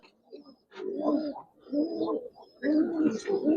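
Close, steady cooing from Giribaz and coloured pigeons for sale in Narayanganj, three rolling throaty phrases separated by short pauses.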